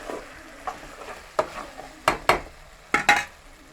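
Tomatoes being stirred into frying okra curry: several sharp utensil scrapes and knocks against the pan come in quick bursts over a soft sizzle.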